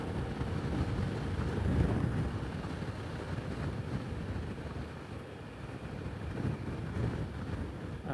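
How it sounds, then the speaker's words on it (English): Wind rushes steadily across the microphone while cycling along the coast near Stinson Beach, a constant loud broadband roar with gusty swells and no voices. "I have to start being mindful of the wind."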